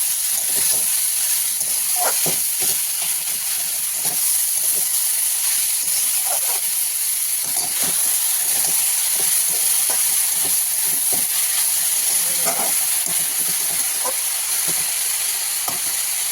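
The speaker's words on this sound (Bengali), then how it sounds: "এবার এখানে আমি চাল কুমড়ো কেটে রেখেছি সেইগুলো এর মধ্যে দিয়ে দেবো" Chopped ash gourd frying in a pan with salt and turmeric, giving a steady loud sizzle and hiss throughout, broken by scattered clicks and scrapes of stirring.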